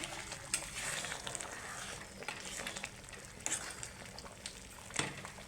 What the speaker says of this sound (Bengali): একটু ফুটিয়ে নেবো তার জন্য আরেকটু জল দিয়ে দিচ্ছি এই যে আমার ফুটে উঠেছে